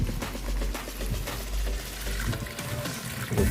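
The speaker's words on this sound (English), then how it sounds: "I'm gonna wash them with fresh water, and you don't have to rub anything, just gently wash them." Butterfly pea flowers get a gentle rinse in fresh water, with soft sloshing and trickling close by and small splashes near the end.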